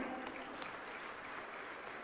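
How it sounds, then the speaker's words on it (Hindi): A crowd at a public event with the Chief Minister claps in a dense, even roar of applause that stays steady throughout the short stretch. "अपने सम्मान में जोरदार तालियां बजाएं।"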